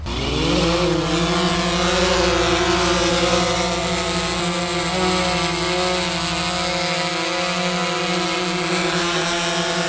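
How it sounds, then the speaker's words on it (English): Loud, high-pitched whining buzz of a SplashDrone 4 waterproof drone's spinning rotors flying in the rain, starting up then holding a steady drone close by, with slight pitch shifts. "It is quite a noisy drone"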